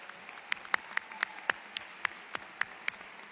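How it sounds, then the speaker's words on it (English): Sparse applause at the Oakland Community College 2024 commencement ceremony: a dozen or so distinct, evenly spaced claps, faint and somewhat distant, as from a few hands in a large hall. "One more round of applause."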